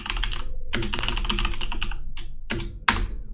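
Rapid clattering keystrokes on a computer keyboard, typed in quick bursts separated by short pauses, close and fairly loud with no one talking.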